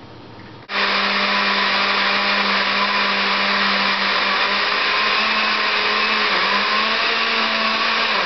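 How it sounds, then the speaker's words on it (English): A blender whirs a protein shake, switching on abruptly and then running as a loud, steady motor whine that lasts to the end with a slight dip in pitch partway through. "I'm gonna mix it and blend it."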